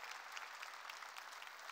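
Steady, dense applause from a church congregation fills the whole stretch, quiet and somewhat distant, with no speech over it.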